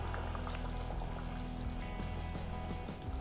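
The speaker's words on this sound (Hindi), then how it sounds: "अब डाल देंगे टोमेटो प्यूरी।" Tomato puree pours into a pan on a gas stove while making veg biryani, a continuous soft, low liquid glug and slosh that stays steady and fairly faint, with no talking.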